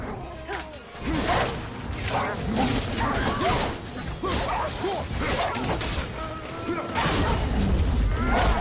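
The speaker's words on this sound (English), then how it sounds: "Back up off me, dog." Dog-like enemy barking and yipping in God of War amid game combat, crashes and mechanical clatter, loud and busy throughout, with a voice speaking over it.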